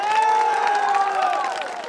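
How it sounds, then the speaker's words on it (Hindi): A crowd at a political rally applauds and cheers, a dense, steady roar of clapping and voices lasting the whole moment, with no clear speech above it. "तालियों की गड़गड़ाहट"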